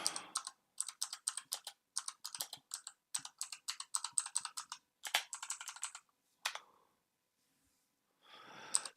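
Rapid bursts of clicking keystrokes on a computer keyboard, typed in quick irregular runs with short pauses and a softer rustle at the end.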